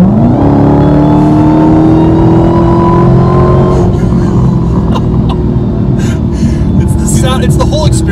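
2018 Dodge Challenger SRT muscle car engine revving up under acceleration, a loud rising whine and rumble that settles into a steady drone, with voices talking over it.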